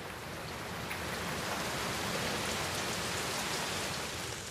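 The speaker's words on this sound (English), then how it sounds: "A downpour cannot faze them. Heavy rain means flooded fields." Heavy rain pours down in a dense, steady roar of countless drops over flooded fields, loud and unbroken throughout, with no voices.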